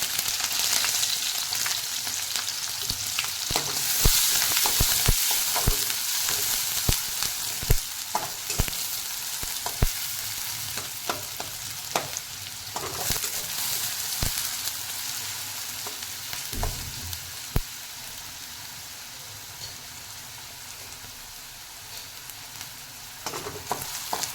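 Onion and green chili fry with mustard seeds in a pan, a long, steady sizzle full of sharp crackles and pops, with occasional stirring scrapes, gradually settling a little quieter.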